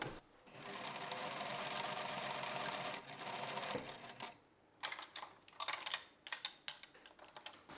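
Sewing machine stitches a scalloped-lace skirt fabric, running loud and continuous for about four seconds, then breaking into short stop-start bursts with small clicks and handling noises between them.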